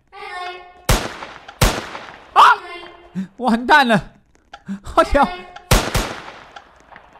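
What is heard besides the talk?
gunshots in Roblox Squid Game, from a video game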